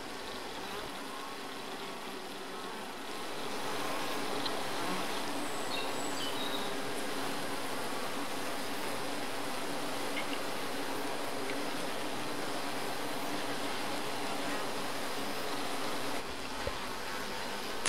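Honeybees washboarding, rocking in unison on the hive surface, give off a soft, continuous buzzing hum that swells slightly after the first few seconds and stays steady and faint throughout, alone without talk.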